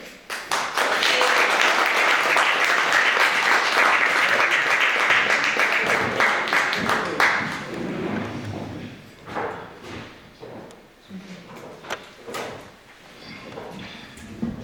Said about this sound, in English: let's give him a hand as he comes to the podium